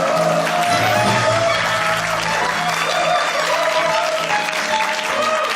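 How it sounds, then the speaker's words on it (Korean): Lecture-hall audience warmly applauding a psychology professor's arrival, a full, sustained wash of clapping from a large crowd, loud and even throughout. "여러분 큰 박수로 맞이해 주시길 바랍니다."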